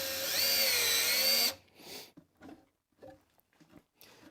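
A Bosch FlexiClick cordless drill driver runs a screw in with a loud, steady, high whine for about a second and a half, then cuts off, leaving faint handling clicks and rustles.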